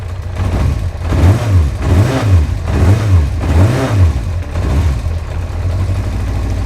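A cheap used motorcycle, newly repaired, idling after the choke is pushed in, a loud close steady engine drone with a rhythmic rise and fall in pitch about once a second.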